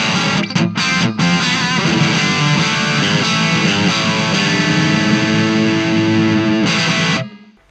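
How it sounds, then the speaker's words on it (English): A heavily distorted electric guitar plays sustained chords with overdriven crunch, loud and continuous, then cuts off abruptly near the end. "I go to the overdrive sound"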